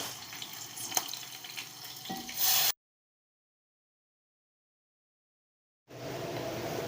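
A glass of water poured into a hot pan of fried green chillies, a loud rushing hiss and sizzle for a few seconds, then silence, then a softer steady bubbling.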